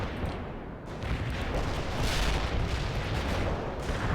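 A Soviet artillery barrage pounds the battlefield in World in Conflict: Soviet Assault, a dense, continuous roar of overlapping booms and rumbling impacts, loud and close, with no speech over it.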